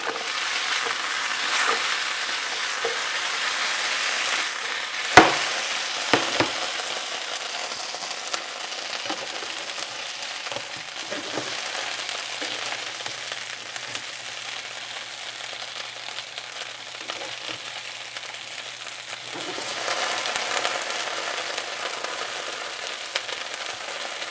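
Potatoes fry in a pan with a steady crackling sizzle, broken by a few sharp scraping knocks around the fifth and sixth seconds as the slices are turned, then left frying, with a faint low hum joining midway.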